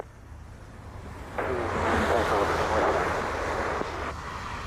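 An airliner taking off from runway 07 at Montego Bay airport on a rainy day, a broad engine roar that swells suddenly and holds steady at a moderate distance before easing slightly.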